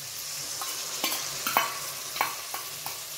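Sauce poured into a pan of frying paneer for chilli paneer, sizzling steadily while a spatula scrapes and stirs in several distinct strokes, close and fairly loud with no talk.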